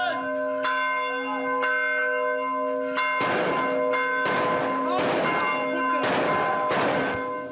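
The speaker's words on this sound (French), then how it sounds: "Pendant tout ce temps, on n'avait pas entendu le son des cloches ici." A church bell in Karakosh rings loudly with a long, sustained resonant tone, then several heavy strikes follow in a steady rhythm, each ringing out and overlapping.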